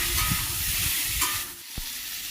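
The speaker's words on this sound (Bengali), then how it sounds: "এখন আমি এর মধ্যে টমেটোগুলি ঢেলে দিলাম।" Tomatoes hit hot oil with mustard seeds in a pan, setting off a steady close sizzle with a few stirring knocks, easing slightly toward the end.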